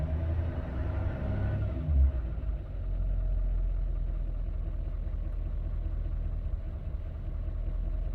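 A 2017 GMC 6.6 L5P diesel stumbles with a dropped cylinder while in reduced power. It gives a low, steady, uneven rumble with a brief surge near the start, heard close and without talk.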